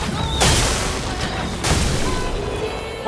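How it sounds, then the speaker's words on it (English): A Sack Attack explosion attack in the video game Clair Obscur: Expedition 33 lands as two loud booming blasts, the first at about half a second and the second around 1.6 seconds, with game sounds throughout the clip. "Into Sack Attack Explosion."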